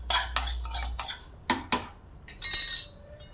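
Coriander seeds dry-roasting in a pan, stirred with a utensil that gives several sharp scraping clinks and rattles against the metal, close and fairly quiet with pauses between strokes.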